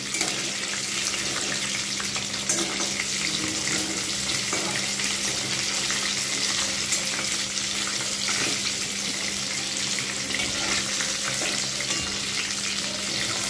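Chicken pieces coated for a crispy KFC-style fry sizzle steadily in hot oil, a dense, even crackle close by that continues unbroken, with no voices.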